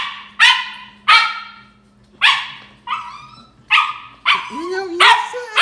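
A dog barks in close, loud, sharp bursts, about seven barks spaced unevenly, with a higher whine near the end, as its owner returns home from the store.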